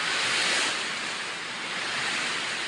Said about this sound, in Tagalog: Tumatalsik yung tubig doon.